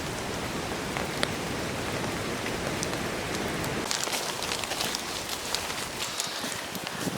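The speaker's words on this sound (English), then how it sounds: "we've been getting rain since sometime in the middle of the night, early morning." Steady hurricane rain pours down outdoors on a South Carolina homestead, a dense continuous patter with sharper drop impacts scattered throughout, no voices present.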